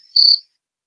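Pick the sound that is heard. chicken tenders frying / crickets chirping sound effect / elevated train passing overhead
crickets chirping sound effect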